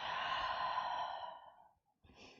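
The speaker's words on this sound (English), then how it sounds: "And a deep breath out." One long, deep exhale during a yoga practice, a breathy rush of air close to the microphone that fades over about a second and a half, followed by a short pause and a softer breath.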